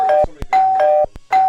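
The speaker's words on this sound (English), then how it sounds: "I think that was the doorbell." A doorbell rings insistently, giving three quick ding-dong chimes in a row, close and clear against an otherwise quiet room.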